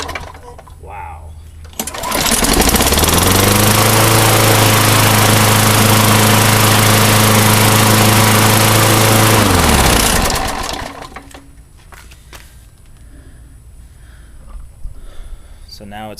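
A Craftsman 6.0 22-inch mulcher lawn mower with a repaired pull-starter spring starts after priming and runs loud and steady for about eight seconds at a close, even drone, then shuts off and winds down.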